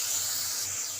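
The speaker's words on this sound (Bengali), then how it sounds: "এবার আমি একটু জল দেব, সামান্য।" A splash of water hitting a hot pan of greens and gram flour bursts into a loud, steady steamy hiss that holds for about a second, close up and alone.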